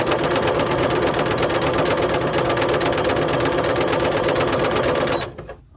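A sewing machine running steadily at speed while stitching quilt patches for a beginner disappearing four-patch quilt, a loud continuous mechanical whirr and rattle that cuts off abruptly near the end.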